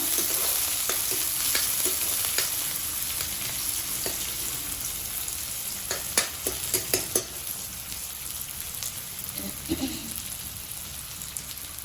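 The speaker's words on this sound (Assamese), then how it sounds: "পিঁয়াজখিনি আমি এতিয়া ৰঙাকৈ অলপ ভাজি ল'ম।" Onions frying in hot oil in a pan, a steady crackling sizzle with scattered sharp pops and stirring scrapes, moderately loud and without speech.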